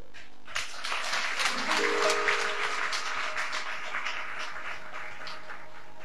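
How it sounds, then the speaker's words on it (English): A church congregation claps together for Jesus after a prayer, a dense patter of many hands that swells early and then thins out, with a faint voice underneath. "Can you clap for Jesus one more time?"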